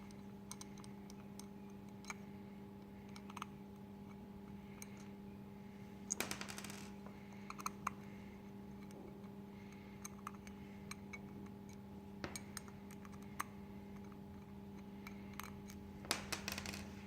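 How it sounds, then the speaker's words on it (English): A star screwdriver turns screws loose on an electrical plug, giving faint scattered clicks and small metallic ticks over a steady low electrical hum, with a few louder clusters of rattling; no one speaks. "We're going to use our star screwdriver and turn it anti-clockwise to open these screws."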